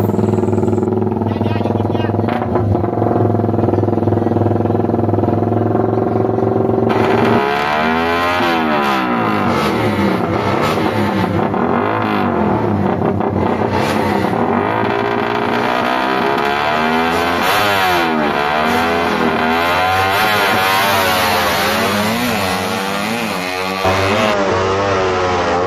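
A Suzuki Raider FI motorcycle racing after a bad start, its engine loud and close, revving up and down in repeated rising and falling sweeps with gear changes over about twenty-five seconds.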